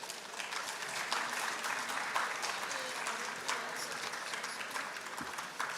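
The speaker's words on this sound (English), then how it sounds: "A big round of applause, please." Sustained audience applause at an International Women's Day award ceremony at IIT Kharagpur in West Bengal, steady and dense throughout as recipients come to the stage.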